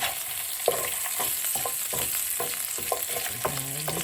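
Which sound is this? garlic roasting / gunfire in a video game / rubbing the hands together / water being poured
garlic roasting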